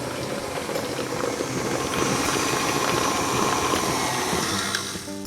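Steady mechanical whirring of a stand mixer with a paddle attachment beating Swiss meringue buttercream, a dense motor drone with faint rhythmic churning, fairly close and unbroken, no voices.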